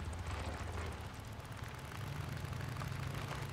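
A motorcycle idles in the video game Days Gone, a steady low rumble that runs unbroken under a dense, noisy wash of background sound. It stays fairly faint and even throughout, with no speech.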